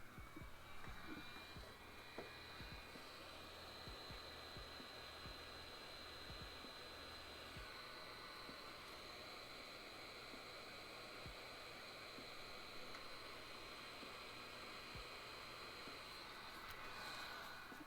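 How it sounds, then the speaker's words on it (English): A heat gun runs continuously to melt craft material, a steady faint whooshing blower hum with a few small clicks and handling knocks, no voices. "Grab the heat gun one more time."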